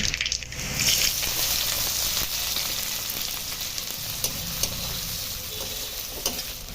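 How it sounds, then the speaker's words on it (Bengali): Chopped onion frying in hot oil in a wok after a tempering of dried red chillies, black cumin and bay leaves: a steady, close sizzle with stirring scrapes throughout. "কড়াইয়ের তেলে ফোড়নে দেব শুকনো লঙ্কা কালো জিরা তেজপাতা ফোড়ন থেকে সুন্দর গন্ধ বেরোলে দিয়ে দেব পেঁয়াজ কুচি"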